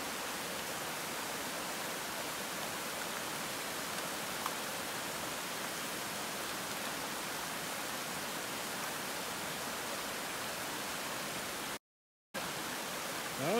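Winter creek water rushes steadily at a creek crossing, a broad continuous hiss of flowing water with a brief gap near the end.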